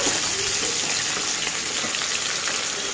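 Food fries on a home stove in a kitchen, a loud, dense, continuous sizzle with fine crackling and no voices over it.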